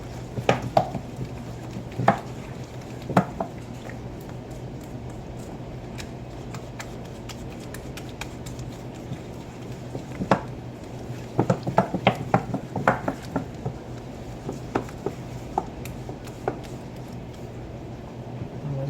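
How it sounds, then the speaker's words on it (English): Cookie batter for low carb pumpkin spice almond cookies being mixed in a bowl, with irregular clinks and scrapes of a utensil against the bowl over a low steady hum, fairly quiet and close. "I'm giving this a mix."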